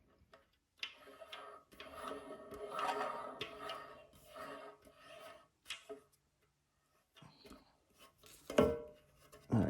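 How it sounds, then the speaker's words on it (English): Close, quiet ticking and rubbing clicks as a rainfall shower arm is screwed onto its fitting by hand, coming in irregular bursts with brief silent gaps. "Then take your arm, and what you're gonna do is attach it. You're gonna screw it onto here"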